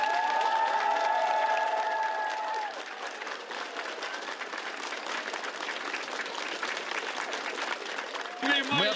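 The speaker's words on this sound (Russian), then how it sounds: "Поддержите их, по крайней мере, аплодисментами." Sustained audience applause in support at a Ukrainian broadcast event, a dense, even roar of many hands with tonal whistling at the start and a voice breaking in at the end.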